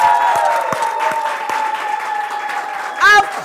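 An audience at a women's rights anniversary event applauds, a moderate wash of clapping with voices and tonal sounds mixed in, ending in a brief louder burst.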